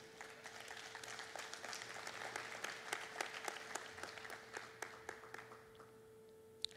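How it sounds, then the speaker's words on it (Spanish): A church congregation claps for the Lord during a Spanish-language service, a fairly distant, sustained round of applause with scattered sharper claps over a steady hum, tapering near the end. "denle un aplauso al Señor"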